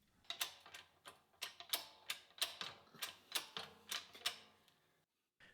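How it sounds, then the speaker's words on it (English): A hydraulic press works in a machine shop, pushing brass bushings into holes through a soft aluminium block, heard as a close series of about a dozen sharp clicking strokes at a quick, uneven rhythm, then abrupt silence. "which is a simple enough job for the hydraulic press with a soft aluminum block to protect all the finished surfaces"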